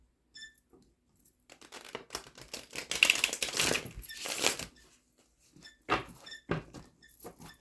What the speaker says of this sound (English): Get you some good shuffles in and we will begin your reading.